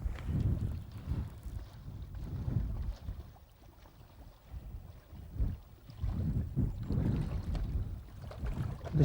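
Wind gusts buffet the microphone at a swim feeder fishing spot, coming in heavy low rushes that rise and fade in waves, with no voices.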